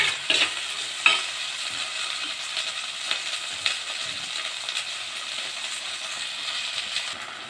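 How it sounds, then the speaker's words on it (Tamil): Turkey berries sauté in hot oil with a soft, even sizzle, with light metallic clinks and scrapes as they are stirred. "சுண்டக்காய் வந்து எண்ணெயில் கொஞ்சம் நேரம் வதந்துட்டோம்"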